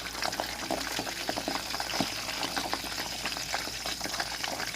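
Pork belly deep-frying in hot oil, a dense, continuous bubbling sizzle with scattered sharp pops and crackles from moisture inside the skin, close and steady throughout with no talking.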